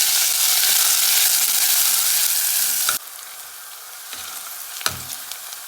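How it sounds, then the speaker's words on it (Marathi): Finely chopped onion fries in hot oil with mustard seeds and cumin, a loud dense sizzle for a few seconds that then drops to a quieter crackle with occasional pops and stirring sounds. "कांदा चांगला परतलाय।"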